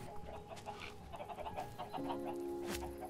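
Chickens in the Minecraft video game cluck and squawk in short repeated bursts over a faint steady background, moderately close, with no speech.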